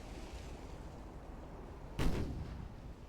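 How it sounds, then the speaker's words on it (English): Warship main guns firing in Ultimate Admiral: Dreadnoughts: a single distant, muffled boom over a steady low rumble, with a brief rolling tail. "Main guns firing."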